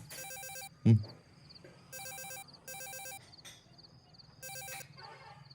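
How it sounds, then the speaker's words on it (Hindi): A telephone rings in repeated electronic bursts, four trilling rings with pauses between them, plus a brief thump early on. "फोन बज रहा था।"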